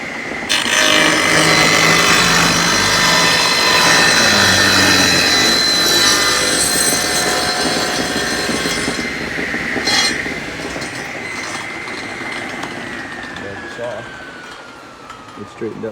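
A table saw rips through the edge of a live-edge wood slab held in a cheap homemade jointer jig, running loud and steady for several seconds before the blade winds down, alone without talk.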